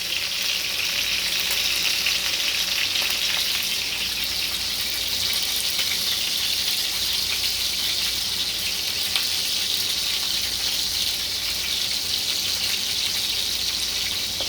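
Food frying in very hot grease gives a steady, dense sizzle that runs unbroken at an even level the whole time, with faint crackles and no talking.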